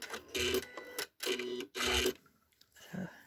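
A sewing machine runs a few stay stitches on a postcard-size fabric card in three quick bursts separated by short pauses, followed by a fainter trailing whir.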